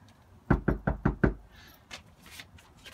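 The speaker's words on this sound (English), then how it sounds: "This is the knock on the door you want to answer." Five firm, evenly spaced knocks sound on a front door, close and sharp, followed by quiet background noise.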